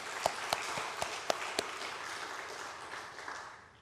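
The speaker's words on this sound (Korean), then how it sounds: "우리 집사님 힘내시라고 또 박수 한번." A congregation at a Korean Methodist church gives a few sharp, separate claps, then soft, scattered applause that fades away, heard quietly and at a distance.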